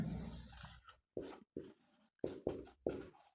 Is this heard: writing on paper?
yes